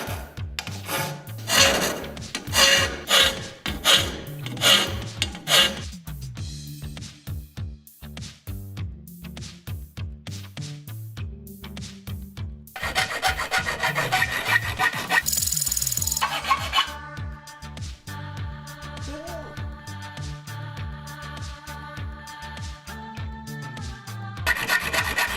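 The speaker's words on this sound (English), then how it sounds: "take these blanks and file the teeth in one by one as you go down" A file rasps by hand across the teeth of a forged rip saw blade, with rapid rhythmic strokes early and later longer, steadier filing passes, close up and moderately loud.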